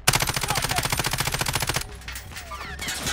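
Fast, loud machine-gun fire in a video game, an even rattling burst for nearly two seconds that cuts off abruptly into quieter scattered game noise.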